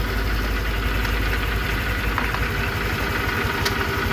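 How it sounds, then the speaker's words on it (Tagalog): A noisy Honda Click 150 scooter engine idles steadily in a workshop, a constant close-up mechanical drone with a faint knocking rattle running throughout and no talking. "Napakaingay ng makina."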